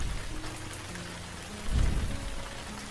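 Steady rain falling in the RainCity video game, a continuous wash of drops on surfaces with a brief louder patter midway and no voices.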